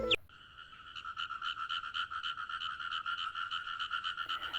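Frogs croak in a dense, steady chorus at night, rapid pulsing calls overlapping continuously and fairly close, with no other sounds.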